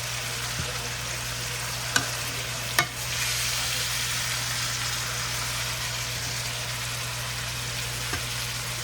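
Asparagus sauteing in olive oil in a pan, a steady close hiss of sizzling that runs throughout with a couple of brief clinks from the utensil, no voices.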